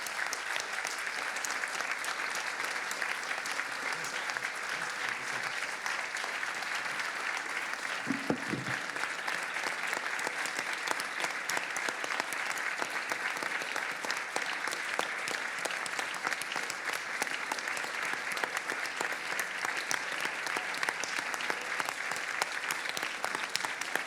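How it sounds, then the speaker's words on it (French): Audience at a journalism awards ceremony giving long, sustained applause, an even, dense clatter of many hands that carries on at steady loudness for over twenty seconds. "Ces applaudissements vont évidemment directement"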